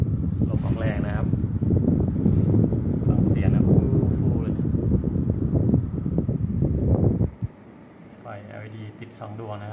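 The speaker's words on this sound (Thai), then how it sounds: "ตัวนี้ทำงานนะครับพัดลมหมุนลมออกแรงนะครับ" The indoor fan of a Mitsubishi Electric home air conditioner, a unit that cuts out after a few minutes of running, blows with a loud, steady rushing whoosh under a person talking, then drops suddenly to a quieter hum near the end.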